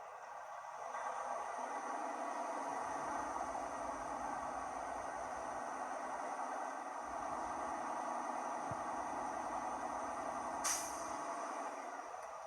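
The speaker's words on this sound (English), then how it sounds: "I'm now going to raise the engine to between 12 to 1400 RPM. Bring the air pressure up between 120 to 140 psi to check the cutout." Truck engine held at 1200 to 1400 RPM while air pressure builds, a steady loud broadband drone with hiss that stays even throughout, with one brief sharp burst near the end.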